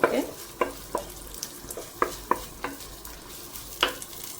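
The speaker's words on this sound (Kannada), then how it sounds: "ನೀರುಳ್ಳಿಯನ್ನು ಹಾಕಿ ಸರಿಯಾಗಿ ಸ್ವಲ್ಪ ಬೇಯಿಸಬೇಕು." Onions fry gently in oil in a clay pot for a Mangalorean fish curry, a low quiet sizzle punctuated by a handful of distinct spoon taps and scrapes.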